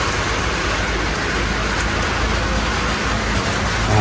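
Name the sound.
rain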